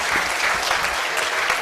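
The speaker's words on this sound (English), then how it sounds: "We can still give them a round of applause." An audience at a school leadership and certificate event gives a sustained round of applause for two schools, a dense, even clapping that runs throughout at steady strength.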